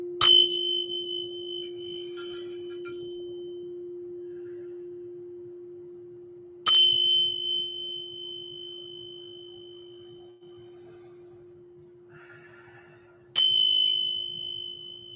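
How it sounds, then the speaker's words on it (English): A bell rings three times, each clear strike spaced several seconds apart and left to ring out and fade into quiet. "And we'll give 3 rings of the bell."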